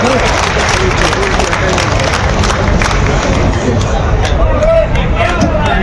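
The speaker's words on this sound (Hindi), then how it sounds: "सब लोग जोरदार ताली बजा करके स्वागत और अभिनंदन करें।" A large crowd at a gathering of sadhus and saints applauds loudly in welcome, a thick, roaring wall of clapping and crowd noise with voices and shouts blended in, sustained at high volume.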